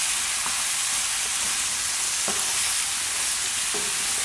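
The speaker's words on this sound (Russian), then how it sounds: "жарится зажарка, грибы, ветчина, лук, морковка" Mushrooms, ham, onion and carrot frying in sunflower oil under an outdoor canopy, a steady loud sizzle throughout with a few faint stirring clicks, no talk.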